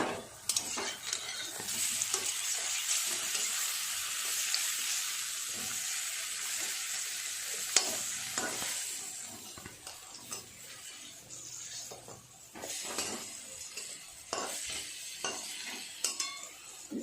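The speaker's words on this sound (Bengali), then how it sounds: "এই পিঠটা একটু লাল লাল করে ভেজে নেব" Lentil fritters (bora) frying in oil make a continuous, hissing sizzle, with scattered clinks and scrapes of a utensil against the pan. The sizzle swells and fades a little as the fritters are handled.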